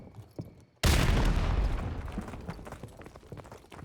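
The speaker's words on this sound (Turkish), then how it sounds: "Bomba geldi oradan." A sudden loud bomb blast in Call of Duty Modern Warfare Remastered's story mode, a sharp booming hit followed by a long rumbling decay with scattered crackles and distant gunfire, no talking over it.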